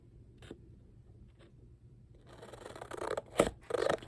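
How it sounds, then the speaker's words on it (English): Scissors cutting paper for a craft ephemera holder, faint quiet stretch, then a run of close crisp snips and scratchy slicing building toward the end, with no talking. "Just gonna cut along there."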